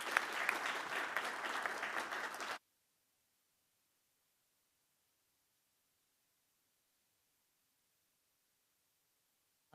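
Audience applause welcoming a speaker to a morning medical talk, a loud, dense burst of clapping for about two and a half seconds that stops abruptly, leaving silence.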